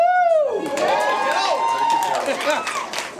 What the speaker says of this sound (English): Don't clap. You haven't seen it yet.